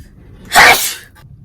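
A single loud, close sneeze bursts out at once, sharp and breathy, over a quiet room, then fades quickly.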